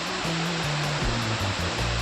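Iruppu waterfall rushes steadily in a dense forest setting, a loud broadband roar of falling water filling the whole span without pause.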